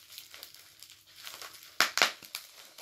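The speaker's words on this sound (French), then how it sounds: "encore une fois, il y a du papier bulle." Bubble wrap packing from a food subscription box is crumpled and crinkled close by: a soft rustle builds into a few sharp, loud crackling bursts, then trails off into lighter crinkles.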